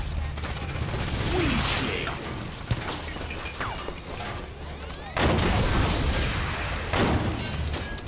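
Rocket launcher fire and explosions in the video game Halo 5, with dense booming blasts and bursts over steady background rumble and a loud impact partway through.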